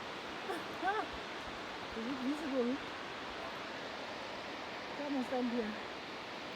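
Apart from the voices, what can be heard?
waterfall in botanical gardens, Johannesburg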